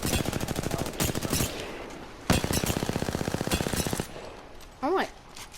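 Rapid automatic gunfire in the shooter game Apex Legends, several loud bursts of fast repeated shots separated by brief pauses, with a short electronic chirp near the end.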